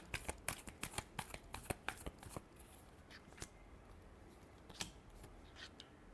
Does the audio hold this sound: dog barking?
no